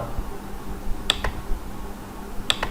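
Two crisp computer mouse clicks, roughly a second and a half apart, while beams are drawn in ETABS structural software; each is close and sharp with a faint double tick, over a low background hiss.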